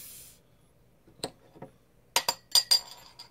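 A glass bottle of pumpkin ale is handled and opened, with a few sharp clinks and clicks of the cap and glass, then a cluster of quick close metallic taps, all without talk.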